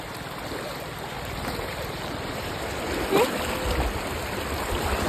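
Fast-flowing water rushes continuously nearby, a dense steady roar with a faint voice briefly audible underneath.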